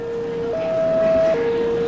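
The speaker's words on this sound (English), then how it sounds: "But is that a siren that I'm hearing where he is?" A siren wails from a distance at a war reporter's location in Iraq. It holds a steady tone, then shifts up to a higher tone and drops back down, all over a low background rumble.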